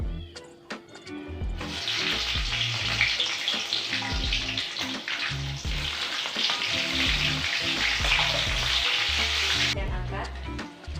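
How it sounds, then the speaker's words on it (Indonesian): Bird's eye chili peppers sizzle and crackle steadily as they fry in hot oil in a pan, a loud continuous spatter with occasional stirring clinks, with no talking. "Selanjutnya goreng cabai rawit hingga layu."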